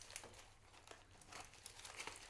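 Packing paper crinkles and rustles as it is pulled out of a houseplant shipping box, a series of close, dry crumpling bursts with a brief tearing edge, and no talking.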